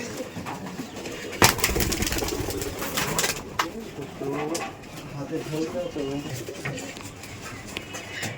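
Pigeons at a pigeon farm coo in low, repeated throaty calls under steady close conversation, with a sharp knock and some wing or cage rustle early on.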